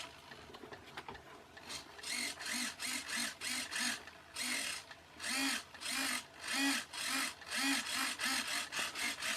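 An RC servo motor in an Action Man RIB boat conversion moves back and forth in a rapid series of short whirring bursts, about a dozen close, buzzy pulses in an uneven rhythm with no speech.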